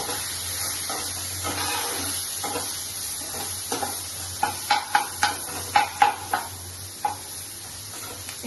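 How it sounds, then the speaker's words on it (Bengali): Onions fry in oil with salt and turmeric in a pan, a steady close sizzle and hiss broken by a run of quick rhythmic scraping stirs against the pan, with no voices. "এবার পেঁয়াজটা একটু ভাজা হোক"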